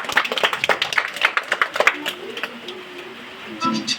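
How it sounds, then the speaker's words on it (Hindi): Students' performance at an Independence Day school festival draws a burst of clapping from the audience, dense at first and then thinning out, with some voices and crowd noise mixed in. "जोरदार ताली।"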